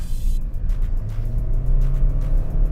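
A 2016 Suzuki Swift 1.2 RX's engine drones low and steady from inside the car as the pedal is pressed, its hum rising slightly and firming up over road rumble.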